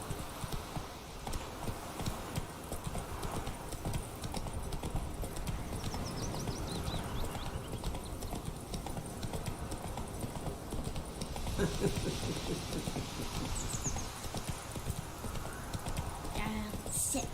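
A horse gallops in The Witcher 3: Wild Hunt, its hooves pounding in a steady continuous rhythm with the odd brief whinny, under background game audio and occasional voices.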